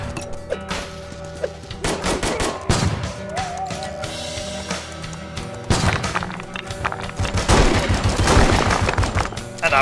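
Repeated gunfire from a VR western shooter played on horseback with stick steeds, dense volleys of shots and crashes that continue loudly and steadily throughout over a busy game score.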